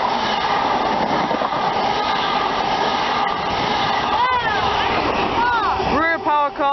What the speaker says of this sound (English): now we have a high speed train passing through.